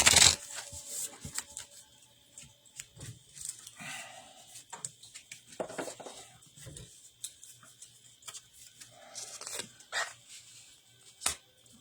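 Moonology manifestation oracle cards being shuffled in a quiet room: soft, irregular riffling and flicking bursts spread across the clip, close and fairly faint, with no talking.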